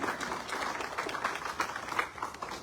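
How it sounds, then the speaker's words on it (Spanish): A church congregation breaks into steady applause during a Spanish-language service, dense overlapping clapping sustained at moderate volume throughout, with no voices standing out. "Un aplauso a Cristo Jesús."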